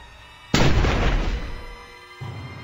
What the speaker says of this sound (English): the sound of the gunshot seems to have startled the monster